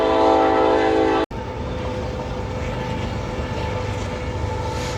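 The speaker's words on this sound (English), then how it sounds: "Here comes the train." A loud rumbling roar of a passing train, steady and close, with a brief sharp dropout early on before the rumble continues.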